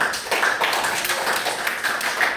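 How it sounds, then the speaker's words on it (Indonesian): A crowd claps in a short burst of applause, a dense patter of hand claps filling the whole moment. "berikan tepuk tangan dulu"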